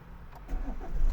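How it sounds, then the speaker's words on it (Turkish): A car engine cranks and catches during a driving lesson on a park and hill-start course, the low rumble building steadily louder and ending in a settled idle. "Debriyaj atan basalım. Aracı çalıştıralım."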